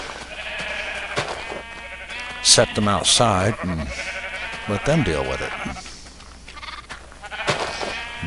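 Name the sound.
sheep bleating in the video game Minecraft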